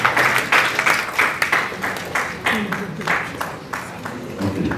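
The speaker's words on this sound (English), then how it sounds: "So please, round of applause for" Audience applause at a book launch as a physician assistant is introduced, a rhythmic pulsing clapping from the crowd, fairly loud, with a voice faintly underneath.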